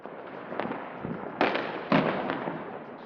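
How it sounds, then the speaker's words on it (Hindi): Diwali firecrackers burst and crackle at a distance, with several sharp pops that break out of a steady noisy wash of scattered crackling. "शाम होते ही बाहर निकल पड़ते हैं और पटाखे फोड़ते हैं"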